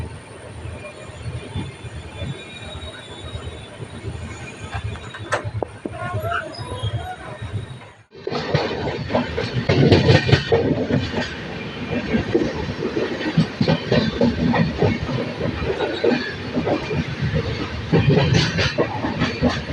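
A Jan Shatabdi LHB passenger train runs and picks up speed; a quieter steady rumble gives way after several seconds to a loud, continuous roar of wheels and carriage noise that persists to the end.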